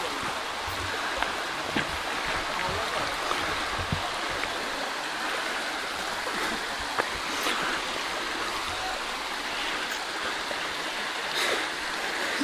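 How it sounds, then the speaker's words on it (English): Waterfall at Tiffany Falls in Hamilton, Ontario, a continuous broad rush of falling water like a flowing stream, loud and even throughout with a few faint knocks and no speech. "looking at the different waterfalls and stuff"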